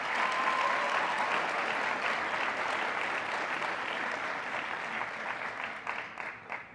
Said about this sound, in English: students, would you please now give your round of applause to the faculty, staff, family, friends